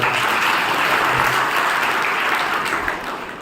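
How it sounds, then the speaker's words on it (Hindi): An audience at a Brahma Kumaris health talk bursts into loud, dense clapping that holds steady, then begins tapering off near the end. "तालियां कौन बजाएगा?"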